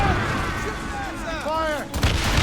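Ship cannons fire during a naval battle in Assassin's Creed Rogue, with a sharp blast bursting out near the end over a layer of tonal, whistling game sound.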